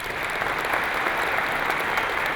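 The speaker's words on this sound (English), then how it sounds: "A round of applause if you would." Steady, dense applause from a large audience at a leadership ceremony, filling the space evenly at a constant level with no voices standing out.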